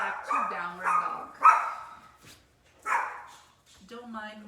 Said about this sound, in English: She's a very loud Chihuahua